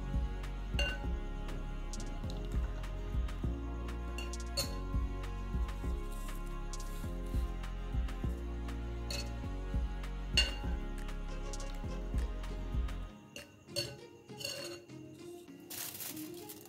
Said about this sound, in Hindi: और ग्लास में 2 चम्मच डालेंगे